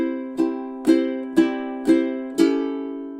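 Ukulele strums chords from the chorus of a song, five even, ringing downstrokes in a slow, steady count, each left to sustain, with no voices.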